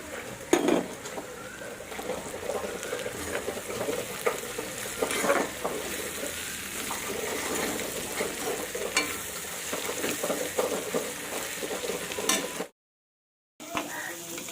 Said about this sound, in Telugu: దొండకాయలు అయితే వేగుతున్నాయి.